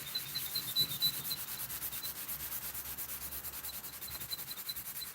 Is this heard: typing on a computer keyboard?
no